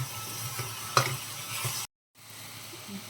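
Onions dropped into hot oil already crackling with mustard seeds and cumin for an egg and tomato curry, giving a broad steady sizzle with a sharp burst near the start, then a brief dropout before the frying hiss resumes more quietly.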